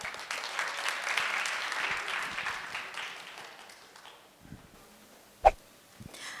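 Audience applause at a Korean speech contest in Toronto, a dense clatter of many hands for about four seconds that fades out, followed by a single sharp knock near the end.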